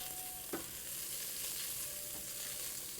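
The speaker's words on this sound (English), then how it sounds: "Kind of spread that out and then stir it up again." Rice frying in a pan while being stirred: a steady, hissing sizzle throughout, with a brief utensil scrape or tap near the start, close and continuous.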